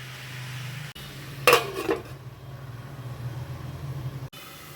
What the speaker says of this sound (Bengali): এবারে মিডিয়াম ফ্লেমে দশ থেকে পনেরো মিনিটের জন্য ঢাকা দিয়ে দেবো